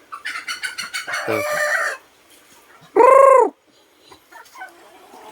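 Chickens clucking in a rapid burst, followed by a loud, close rooster crow lasting about half a second, with a few brief spoken words in between.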